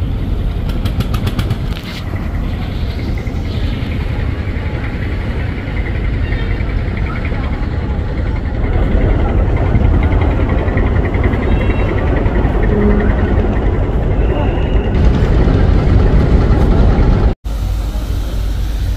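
Steady low engine drone of the passenger launch MV Pubali-12 under way from Sadarghat toward Fatullah, a continuous rumble that holds loud throughout with a brief dropout near the end.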